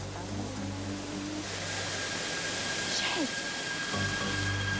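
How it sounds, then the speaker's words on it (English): A waterfall in Nashville, Tennessee gives a constant, dense rushing roar that fills the whole stretch, steady and close, with a faint thin tone running through it. "Look at the waterfall."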